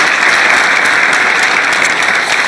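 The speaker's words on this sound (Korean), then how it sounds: "네, 박수로 동의해 주시기 바랍니다" An audience at a presidential public report meeting claps in agreement, producing loud, dense, even applause that fills the whole moment without a break.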